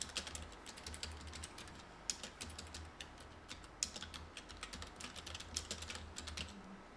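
Computer keyboard keys tapped in quick irregular bursts while adding text in Photoshop, close and fairly quiet, with short pauses between runs of strokes and a low steady hum underneath.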